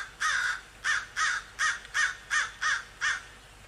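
Crows caw in a steady series of eight harsh, evenly spaced calls, each about a quarter second long, moderately loud over a quiet background.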